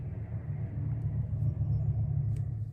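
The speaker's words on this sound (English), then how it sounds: "there's literally so many cars passing by and doing so many things out there" Cars pass by outside as a steady low rumble of traffic, muffled as if heard from indoors, with a continuous droning road noise and no distinct individual pass-bys.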